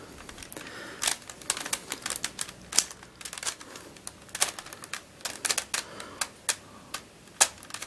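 Rapid plastic clicks and clacks from a plastic dodecahedron twisty puzzle being turned and jumbled, irregular bursts of sharp taps at close range with quiet gaps between.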